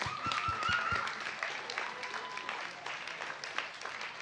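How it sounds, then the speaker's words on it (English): Applause for competitors at the close of a body piloting championship event, a few sharp close claps at first followed by a moderate crowd's steady clapping and cheering. "Big round of applause for all the competitors."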